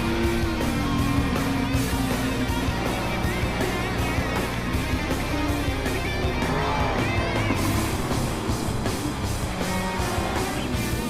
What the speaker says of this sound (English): Man, hearing those engine noises